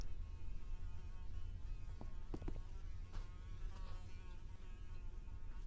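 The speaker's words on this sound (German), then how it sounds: "Was ist das für ein Brumm? Ich habe gerade bei mir im Zimmer gesucht, aber es ist im Spiel." A fly buzzes steadily and faintly in a video game, a continuous insect drone with no one talking over it.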